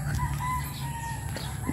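A rooster crows in a drawn-out call, moderately close, over steady outdoor background noise in a backyard food garden.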